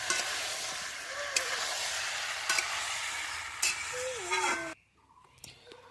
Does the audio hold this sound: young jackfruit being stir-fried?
yes